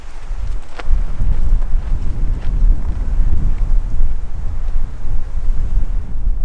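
Strong wind gusts buffet the microphone on a mountain trail, producing a continuous loud low-pitched roar that lasts the whole stretch.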